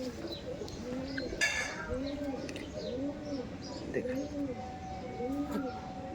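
Madras loft breed pigeons coo steadily in a repeating low rolling rhythm, several birds close by, with a few sharper chirps and background noise over the cooing.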